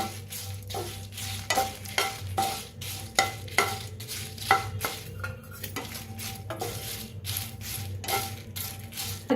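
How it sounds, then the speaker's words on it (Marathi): Rhythmic scraping and clatter of a utensil stirring dried chillies and curry leaves roasting in a pan, with a soft sizzle underneath, close up and steady. "कढीपत्त्याला बी भाजायचं, दोन्ही मिळून भाजून घेऊया"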